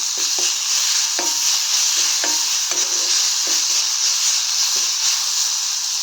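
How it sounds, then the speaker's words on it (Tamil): Mustard seeds, urad dal and curry leaves temper in a little hot oil in a kadai, giving a steady loud sizzle with scattered pops and crackles throughout. "கடாயில் கொஞ்சமாக எண்ணெய் சேர்த்து கடுகு உளுந்தம் பருப்பு தாளிச்சிருக்கேன்"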